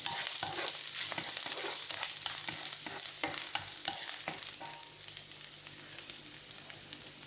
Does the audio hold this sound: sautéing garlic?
yes